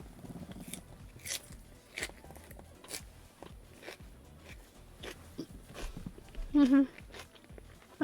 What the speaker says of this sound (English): I hope you enjoy the crunchiness of my chewing